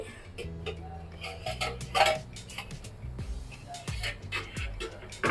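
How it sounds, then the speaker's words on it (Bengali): A metal lid comes off a cooking pot during a Bengali home recipe for moong dal with loti, with a few close clinks and taps against the rim over faint kitchen background. "এখন আমি ঢাকনাটা খুলে দেখাচ্ছি"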